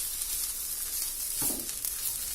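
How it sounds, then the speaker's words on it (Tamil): Drumstick (moringa) leaves sizzle steadily in a hot pan, a soft continuous frying hiss with a brief stirring rustle partway through. "முருங்கைக்கீரை கொஞ்சம் வதங்கட்டும்."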